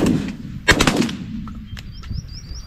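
Shotgun blasts during an outdoor pigeon hunt: one loud near shot followed closely by a quick second, then a few fainter pops and thin bird chirps over quiet field ambience.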